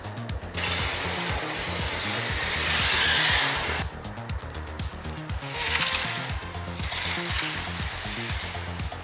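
A fast Lego RC car fitted with a gyro races along, giving a continuous high whirring motor buzz with gritty rolling noise that swells and fades as it passes, no talk.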